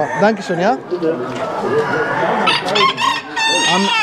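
Feather-footed chickens at a rare breeds show cluck and crow close by in a loud, busy mix of calls. Someone speaks over the birds.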